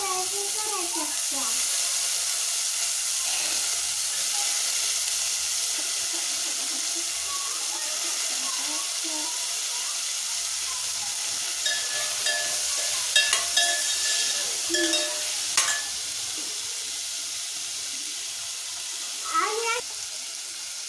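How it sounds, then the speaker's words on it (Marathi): Field beans sauté with onion, chili and garlic in a pan, making a steady hissing sizzle throughout, with occasional scrapes and stirring clinks, while someone talks over the cooking. "आता एक आपण पावटे घालूया पावटे थोडं परतून घ्यायचे"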